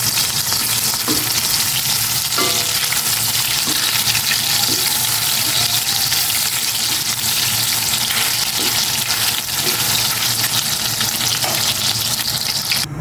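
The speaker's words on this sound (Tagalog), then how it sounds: "Gisa ko na itong bawang." Garlic sautéing in a hot pan at home gives a steady, close sizzle and crackle, with occasional stirring clinks and scrapes throughout and no talking.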